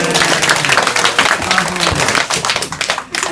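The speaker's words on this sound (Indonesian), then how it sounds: "Tepuk tangan sekali lagi." A theatre audience claps and applauds loudly and steadily after a monologue performance, a dense crowd sound that carries on without a break.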